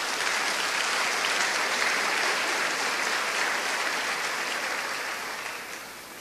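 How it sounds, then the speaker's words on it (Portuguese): Steady applause from a church congregation during a worship service, a dense even wash of clapping that holds loud for several seconds before easing slightly at the end. "Então dê um aplauso ao Senhor"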